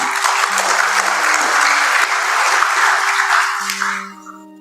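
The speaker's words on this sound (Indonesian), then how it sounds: "Aplaus untuk PLN." An audience at a corporate tribute event for the Indonesian state electricity company PLN gives loud, sustained applause that tapers off near the end, while a musical tone holds underneath.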